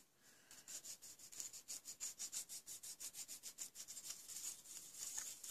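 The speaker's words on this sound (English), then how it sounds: "So if you can hear the clicking and crumpling in the background, it's him on his silhouette." Silhouette Cameo cutting machine working through paper, making a quiet, steady train of rhythmic clicks and scratchy crumpling strokes with no voices.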